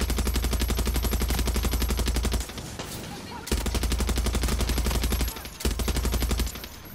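Sustained automatic gunfire in Far Cry 6, a steady rapid stream of loud, close machine-gun shots that stops briefly twice before resuming, with hits landing on the player.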